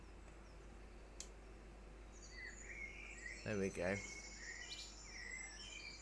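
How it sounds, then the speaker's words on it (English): A birdsong recording played indoors during a pastel drawing session: several faint, quick chirps and tweets scattered over a few seconds, with a short spoken remark in the middle. "Let's put some birdsong on."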